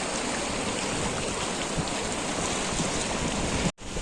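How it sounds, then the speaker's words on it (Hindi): The fast-flowing Bhagirathi river near Gangotri rushes steeply downhill, a dense, loud, steady hiss of churning water filling the scene before a sudden brief cutoff near the end. "स्लोप इतना ज़्यादा हाई है यहाँ पे, तो रिवर का बहुत तेज स्पीड है।"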